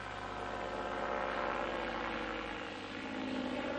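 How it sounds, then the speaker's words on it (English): A light ultralight aircraft flying over the deep Raoul caldera, its propeller engine droning steadily and close throughout, with a constant broadband hum and no voices. "Roland Marjolin and Michel Lehay, now attempt a flight into the heart of Raoul, one of the deepest calderas in the world"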